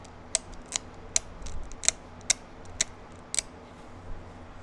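Edge trimming on a flint point during flintknapping for a Cahokia point: sharp, crisp ticks and snaps struck one by one at an irregular pace, about eight distinct close, clear hits over a faint steady background.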